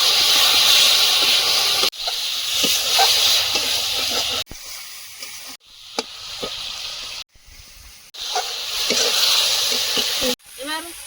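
Chopped tomato and water hitting hot spices in a pan, producing a loud hissing sizzle that surges in several bursts with brief cut-offs, plus stirring clinks, close by.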